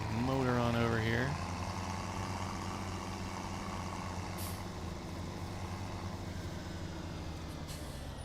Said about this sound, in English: Motor on over here